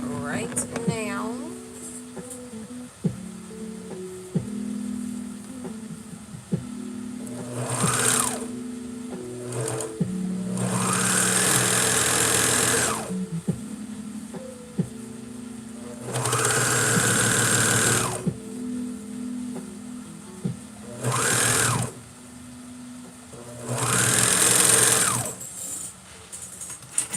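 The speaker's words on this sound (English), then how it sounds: "serge that or zigzag stitch it. Which is what I am about to do right now." A sewing machine zigzag-stitches fabric for a McCall's 8193 cosplay garment in several close, rapid whirring bursts of varying length, separated by quieter pauses with handling sounds.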